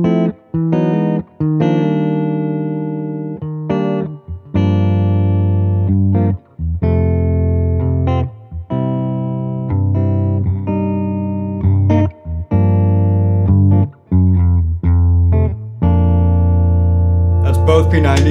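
A clean semi-hollow electric guitar with P-90 pickups through a Fender Princeton Reverb amp playing a run of chords and single notes, bright and warm with ringing sustain, brief gaps between phrases.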